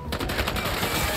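Rapid gunfire from weapons in Marvel's Spider-Man 2, a dense, continuous burst of shots, loud and close, filling the short moment without any voice over it.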